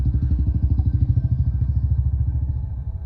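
A motorcycle engine at night thumps in a rapid, steady low putter, fairly close and loud, fading slightly toward the end.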